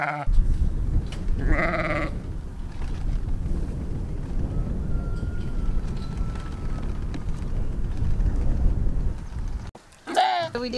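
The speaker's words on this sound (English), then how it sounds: "these are the hair sheep" Hair sheep on a pasture bleat several times, loud and close, a short wavering call near the start and another near the end, over a constant low rumble of wind or machinery.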